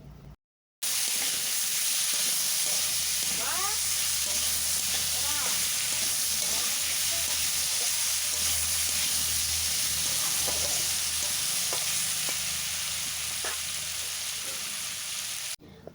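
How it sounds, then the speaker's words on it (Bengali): Gima greens sizzle and fry steadily in a pan with salt and turmeric, a continuous loud hiss broken by occasional stirring scrapes, with no talking. "লবণ আর হলুদ গুঁড়ো দেওয়ার পর ভালোভাবে নাড়াচাড়া করে ভেজে নেব।"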